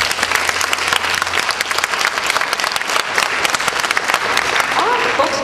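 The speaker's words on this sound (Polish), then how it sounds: "to jeszcze raz poproszę, gorące brawa." Warm, dense applause fills a hall at a benefit concert for the Radwański brothers, a large audience clapping loudly and continuously for the band with some voices mixed in.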